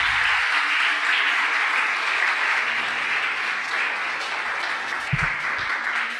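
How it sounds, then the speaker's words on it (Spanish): A church congregation applauds steadily, a dense wash of clapping that holds at an even, fairly loud level throughout, with a few low thumps near the end. "Dale un aplauso al Señor."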